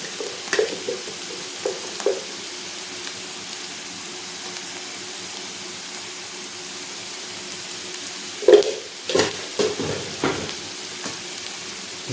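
Bharangi leaves stir-fried with spicy masala in a pan give a soft, continuous sizzle, broken by a few scraping stirs near the start and a louder cluster of clatters and scrapes toward the end.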